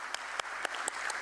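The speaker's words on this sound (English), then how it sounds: "But keep applauding for him, come on." An audience applauds at a stock exchange listing ceremony at BSE; the sound is quiet and distant, a soft wash of clapping with a few separate louder claps spaced evenly through it.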